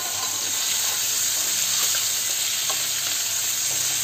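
Chopped tomatoes cook in a pan over high heat for chilli paneer gravy, giving a loud, steady, close-up sizzle and hiss with faint stirring underneath.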